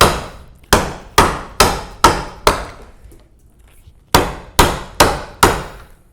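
Wood being chopped out with a 1-inch firmer chisel held bevel down, a run of five sharp, evenly paced strikes, a pause, then four more; each blow cracks loudly and decays quickly, close by, with no talking.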